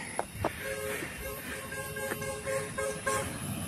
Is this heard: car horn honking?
yes